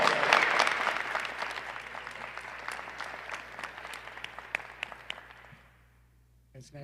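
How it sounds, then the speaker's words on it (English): A round of applause for EMS graduates at a Cleveland graduation ceremony, loud at first and gradually tapering off into scattered individual claps before near silence. "Congratulations, graduates. Let's give a round of applause."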